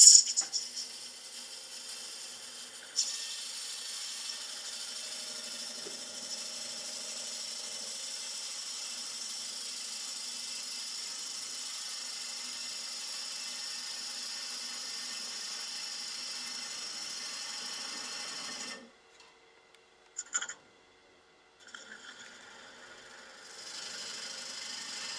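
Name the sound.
wood lathe spinning while sanding an off-center bowl face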